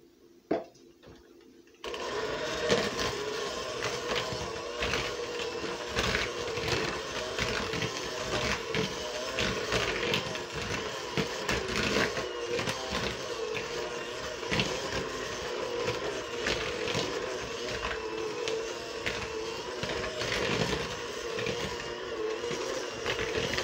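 Lemon cake batter with lemon zest is mixed by machine, giving a steady whirring, rattling drone that runs continuously for over twenty seconds after a brief quiet start, with no talking.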